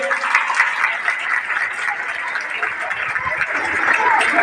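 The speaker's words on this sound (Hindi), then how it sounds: "ताली बजाओ इसके लिए सारे।" Schoolchildren in a classroom applauding together, a sustained, dense patter of many small hands clapping close by for several seconds.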